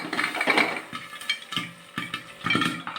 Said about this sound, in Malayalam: അത് പൊട്ടുന്ന സൗണ്ടാണ്